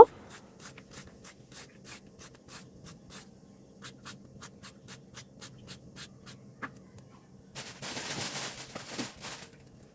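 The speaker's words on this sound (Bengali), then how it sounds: "তো চিচিঙ্গাগুলোকে আমি ছিলে নিচ্ছি, তারপর পাতলা করে কেটে নিব।" Snake gourd being peeled with a handheld vegetable peeler in a home kitchen, giving a steady series of short scraping strokes, close and fairly quiet, ending in a louder rough rustle.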